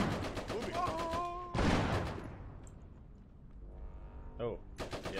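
Machine gun fire in the Iron Harvest video game, rapid bursts of rattling shots followed by a heavy blast and a few more sharp reports, with faint game effects between them.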